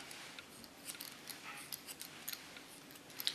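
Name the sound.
scissors slice-cutting hair for a pixie cut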